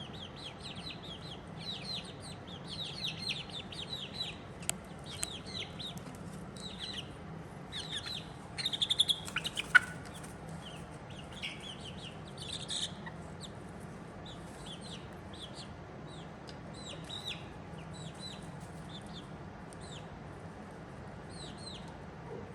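Chickens in a backyard chicken run give off scattered clucks and short chirpy calls over a steady low background hum, with a slightly louder flurry of calls midway and no talking.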